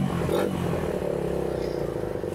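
A 150cc Suzuki Satria FU motorcycle modified as a scrambler is revved, its exhaust rising from a throbbing idle into a brief louder roar and then settling, heard close up.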